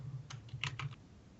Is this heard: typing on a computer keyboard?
yes